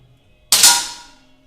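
A single sharp sport-shooting gunshot cracks out nearby at a shooting tournament and then rings off into a short decaying echo.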